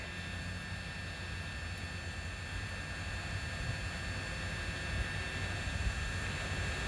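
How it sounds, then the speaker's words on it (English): A drone buzzes continuously overhead with a thin high whine over a broad rushing hum, loud and steady, swelling slightly toward the end. "you'll start hearing the drone. It actually sounds like just a buzzing bee"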